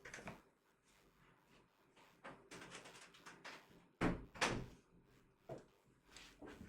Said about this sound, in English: Just had to close my door.